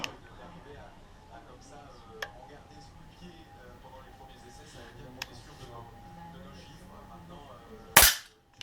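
An Artemis CP400 4.5 mm CO2 pistol fires three sharp, separate shots in a quiet room, the last one loudest, with a low background murmur between them.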